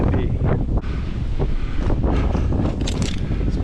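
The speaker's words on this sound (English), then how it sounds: "It's nice and windy." A strong northwest wind roars across the microphone high on a massive dead spar tree. The gusting rumble is loud and constant, with no talking.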